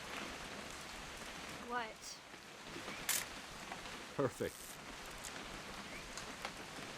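Steady rain falling in the video game What Remains of Edith Finch, a constant hiss throughout with brief voices speaking over it.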